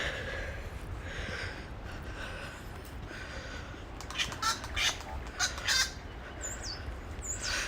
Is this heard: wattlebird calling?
yes